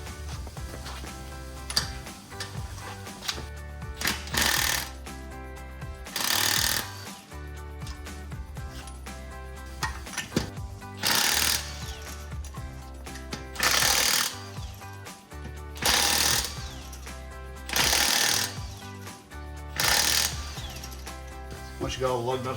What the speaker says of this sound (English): the impact driver I have, it's able to break them up when there's no tire pressure on the tires